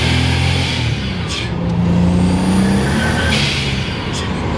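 A turbocharged and supercharged 530 hp Pontiac Grand Prix GTP accelerating, with a loud, steady engine drone and a rising whine heard from inside the car, pushing through a long gear.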